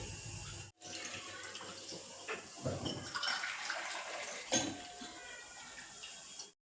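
Water pours steadily into a pot with a continuous splashing rush, brief pauses, and a few faint metallic clinks nearby.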